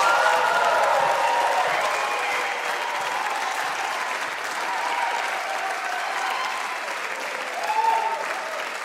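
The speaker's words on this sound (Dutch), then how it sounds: "Geef ze nog een heel hartelijk applaus." A seated audience applauds competition finalists at the Jonge Makers Prijs 2022 final in a hall, a steady, dense clapping that holds for the full length with a slight swell near the end.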